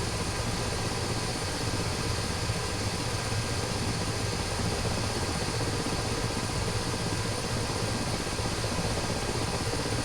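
Helicopter in a video game flying at very low speed on a convoy escort mission, its rotor and engine a steady unbroken drone filling the whole stretch with no talking.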